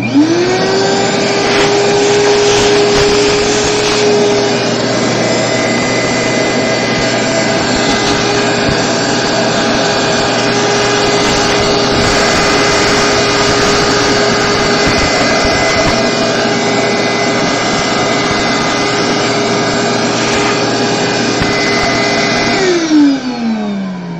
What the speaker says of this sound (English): Let's vacuum it out so we can get a good look.